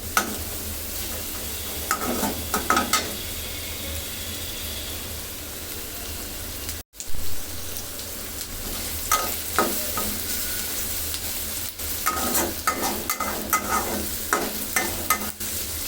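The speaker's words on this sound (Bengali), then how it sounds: "সতে করে নিতে হবে পেঁয়াজটা" Chopped onions sauté in a pan for a shutki (dried fish) dish, giving a steady close sizzle broken by clattering spatula scrapes and stirs, with a brief dropout midway.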